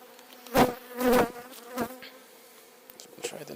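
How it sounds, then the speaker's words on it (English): Irish black honeybees buzz at an open hive, several individual bees droning past close by in short swelling bursts over a quiet background. "the Irish bee is a black honeybee"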